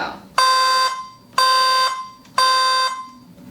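A fire alarm with a lower-frequency tone made for hearing-impaired people sounds three loud, long, evenly spaced beeps with short gaps between them, close and without talk.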